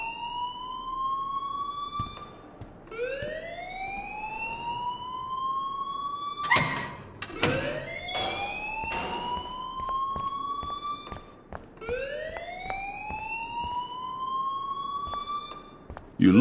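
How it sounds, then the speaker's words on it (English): A rising, wailing electronic alarm repeats in long sweeping cycles inside the video game Life Is Strange, loud and steady with a few clicks and knocks between sweeps. "please turn off that alarm since that's your job"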